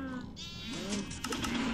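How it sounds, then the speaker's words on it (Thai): Several sheep bleat in a Minecraft animal farm. The wavering cries overlap and sit close and clear, with a few short clicks among them and no speech. "อยากได้ลูกแกะหน่อย"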